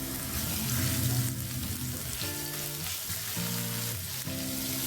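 Onion fries with ginger-garlic paste in a pan for stuffed onion curry, a steady, close sizzle with occasional shifts as it is stirred.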